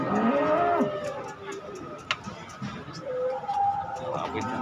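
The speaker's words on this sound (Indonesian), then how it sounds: "Sapi jumbo bercaplak." Jumbo cattle at a livestock market moo repeatedly, low drawn-out calls mixed with people chattering nearby, a short knock in between.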